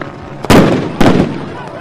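Fireworks go off at a street riot in California. Two loud, close booming bursts land about half a second apart, each trailing into a rumbling decay.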